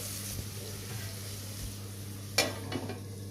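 Spiny gourd (kankoda) cooking in a covered pan gives a faint, steady low sizzle, broken by a brief clink of the lid or utensil near the end.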